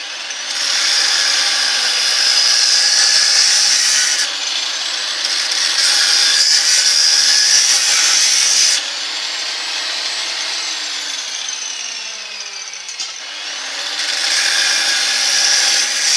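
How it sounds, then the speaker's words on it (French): A power saw cuts steadily through a metal tube for a homemade buggy, a loud continuous grinding whine that drops briefly in pitch twice as the blade bites, close up and with no speech. "je vais couper 35 dans mon tube, là"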